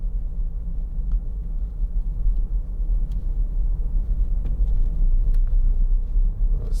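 A 2011 Peugeot 3008 2.0 HDi FAP diesel engine ticking over at idle, a steady low rumble heard from inside the car, continuous and even with slight surges and no talking.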